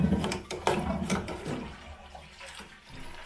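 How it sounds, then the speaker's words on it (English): A Dudley Cascade toilet cistern with a faulty siphon that won't flush reliably, gurgling and rushing water as it finally flushes and drains, close and fairly loud before tapering into softer trickles. "Eventually we can get it to flush and the water is now drained out."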